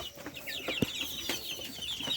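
Chickens on a poultry farm cluck and chatter continuously at close range, with several birds calling over one another in a busy, overlapping stream and no talk.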